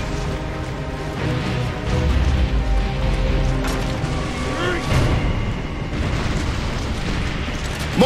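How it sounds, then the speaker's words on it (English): Mortar explosions in the video game Gears of War: Judgment, low booming blasts rumbling under a dense battle soundscape with game voices talking throughout. "Mortars! The grubs are gonna flatten that house if we don't stop them."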